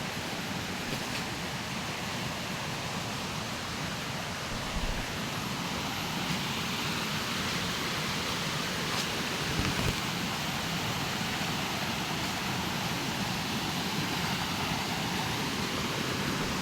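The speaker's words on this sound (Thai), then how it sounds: "น้ำตกอยู่หลังผู้เลย" Forest waterfall at Phu Soda pours in a steady, dense roar of rushing water that fills the whole scene without pause, close and loud.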